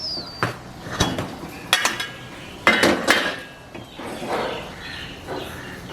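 A metal idli steamer pot is opened on the stove, its lid clanking and scraping in several sharp metallic knocks over about six seconds, close up with no voices.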